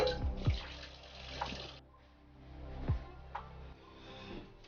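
Dishes washed under running water, an uneven splashing flow with a few clinks of utensils, close by and fairly quiet, with no talking.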